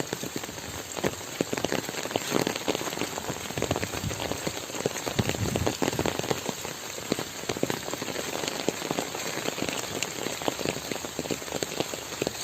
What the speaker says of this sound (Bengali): যত টাইম এগোচ্ছে বৃষ্টি ততই আস্তে আস্তে বাড়ছে।